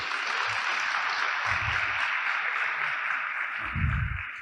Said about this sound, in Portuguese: Dê um aplauso para Maitê.